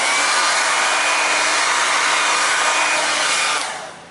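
A hair dryer blows wet paint across a canvas, a loud steady whooshing roar with a thin whine running through it, before cutting off and fading near the end.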